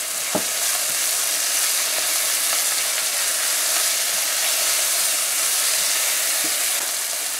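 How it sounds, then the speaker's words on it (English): Pounded garlic and pepper frying in a pan for stewed butterfish, a steady loud close sizzle with no break, faint pops and stirring clicks now and then. "So we're gonna let it fry up a bit."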